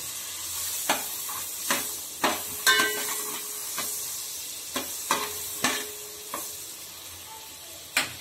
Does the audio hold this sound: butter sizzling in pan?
yes